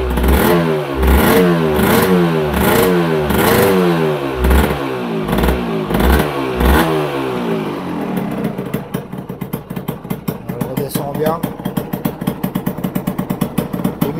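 A Yamaha 125 Ténéré motorcycle engine starting up, first with a loud pulsing rhythmic churn, then settling into a fast, steady, close single-cylinder idle with clattery beats, no voices.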